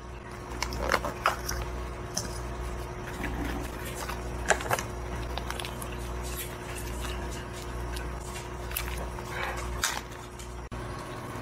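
Close, crisp crunching from repeated chewing of insects as a snack, a steady run of brittle cracks and munches with no talking.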